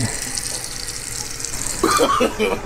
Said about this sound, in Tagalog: maglalagay tayo ng tubig dito sa ating steamer